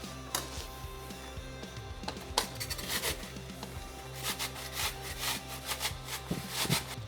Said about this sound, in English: I like to grate my onion